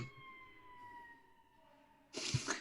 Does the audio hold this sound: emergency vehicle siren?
yes